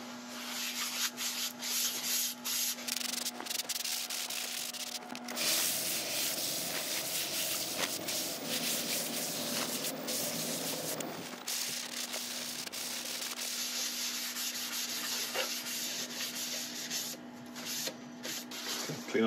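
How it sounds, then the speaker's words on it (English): Abrasive paste is buffed onto a wooden bowl with a shellac finish while it turns on a woodturning lathe, making a steady, close rubbing and hissing friction with a constant motor hum beneath. The sound eases briefly in the middle, then resumes. "So I'm just going to put on the abrasive paste and we'll buff it up to a nice shine ready for the final finish."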